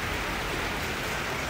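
Heavy rain pours down steadily in Taiwan, a dense, continuous hiss of drops hitting surfaces, loud and close, with no voices over it.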